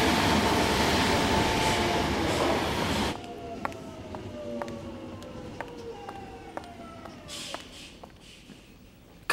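A train pulling away from a station, loud rumbling rail noise at first, then quieter clattering with a rising electric motor whine and periodic clicks as the cars move off.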